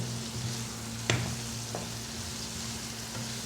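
Onions frying in hot oil give a faint, steady hiss and crackle, with a single sharper pop partway through and a soft clink later, all heard close with no talking.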